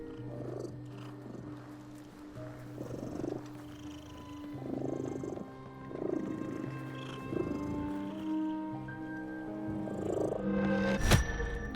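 A cat purrs steadily in the video game The Midnight Walk, a soft, close rhythmic rumble pulsing in long breaths with quiet ambient game sound beneath and a brief sharp sound near the end.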